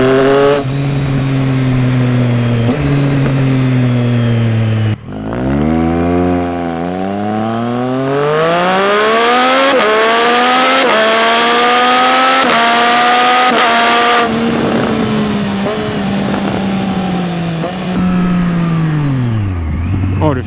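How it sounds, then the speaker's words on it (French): A Triumph Street Triple 765 RS motorcycle exhaust howls as the triple-cylinder engine revs hard through rising gear pulls with sharp shifts, loud and close throughout, with a brief dip before climbing again. "Et surtout quand ce pot d'échappement s'exprime."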